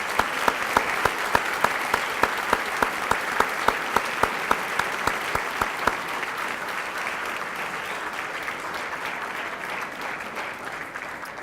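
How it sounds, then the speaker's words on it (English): Audience applause for veterans standing at a high school Veterans Day program, a broad steady wash of many hands clapping throughout, with a few sharp individual claps standing out early on before it settles into an even roar. "Let's give a big round of applause"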